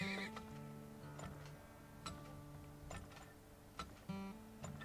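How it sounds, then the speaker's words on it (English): Horses neigh and whinny in the video game Turmoil, with clip-clopping hooves, several sharp calls rising over a continuous bed of game music and tones. "Couple more horses"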